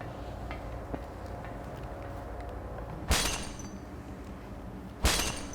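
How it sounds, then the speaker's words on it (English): Glass breaks twice in the survival horror game Silent Hill, two sharp, loud shattering crashes a couple of seconds apart that cut through a low, murky ambient drone. "It's just breaking glass sounds."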